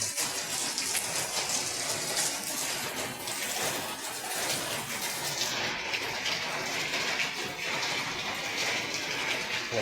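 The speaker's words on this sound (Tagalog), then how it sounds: "Tuloy-tuloy ang ulan." Continuous rain falls at a junk shop warehouse, an even, dense hiss of drops that stays steady and fairly loud without pause.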